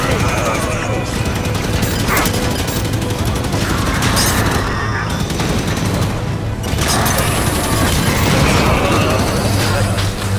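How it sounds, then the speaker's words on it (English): Soldier gunfire in the Halo 5: Guardians video game on Xbox One X: sustained rapid volleys of weapon fire with booms and mechanical clatter, loud and continuous, with voices talking over the battle. "Soldier firing on me!"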